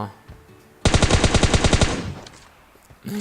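An automatic weapon fires a rapid burst of about a dozen loud shots in PUBG Mobile, evenly spaced over a second, then the echo fades before a short voice sound at the end.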